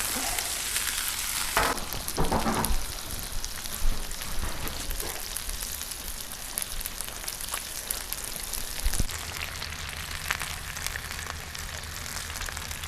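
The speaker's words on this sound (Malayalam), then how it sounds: "അതൊന്ന് സൈഡിലേക്ക് ഇട്ട് പെട്ടെന്ന് വറുത്തെടുക്കാം" Peri peri fish pieces frying in oil make a continuous close sizzle, with a few brief clatters from stirring or turning in the pan.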